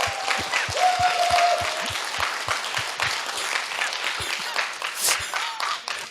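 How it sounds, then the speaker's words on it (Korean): Church congregation clapping during a Sunday worship service, with a loud, steady rhythmic beat of hands clapping in unison and scattered voices and cheers mixed in. "박수."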